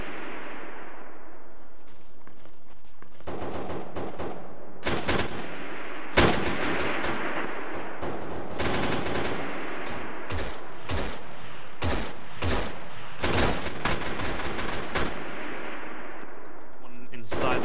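Sustained battlefield gunfire with dull artillery booms in the ARMA 3 military game, dense bursts and broadband cracks recurring across the whole stretch over a constant rumbling background, with voices occasionally mixed in.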